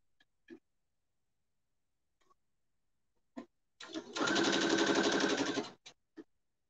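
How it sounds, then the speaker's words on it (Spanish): A sewing machine stitching pieces of quilt block fabric runs in one steady buzzing burst of under two seconds, after a few isolated clicks and taps from handling the fabric, close by in a quiet room. "Y vamos a coser."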